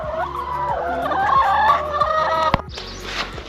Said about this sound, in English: happy hens.